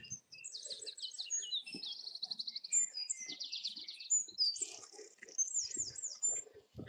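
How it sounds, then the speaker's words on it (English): Varied birdsong rings out during a Saturday morning dog walk, with bright, rapid trills and repeated chirping phrases following one another, moderately close and clear, along with faint footsteps and small rustles beneath. "it's either listening to birdsong like that"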